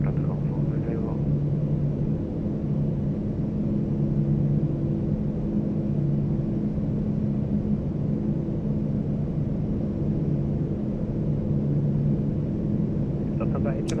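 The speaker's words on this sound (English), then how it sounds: "I'll give you a nice little wing view here of these engines spooling up" Airbus A340-300 engines spooling up on the takeoff roll in MSFS2024, a steady low rumble and drone throughout, with a person talking over it.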